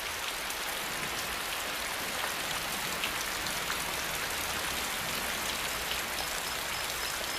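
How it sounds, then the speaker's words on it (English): Steady, dense rain falls on a tropical rainforest canopy, an even hiss of countless drops on leaves that holds at the same loud level throughout, with no voices. "canopy of the forest breaks the force of the rain and stops it from washing the topsoil away"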